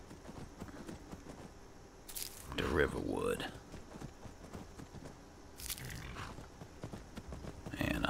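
Horse hooves clop at a walk in the Skyrim video game, a steady, soft hoofbeat running beneath a voice, with a louder patch of movement around the middle.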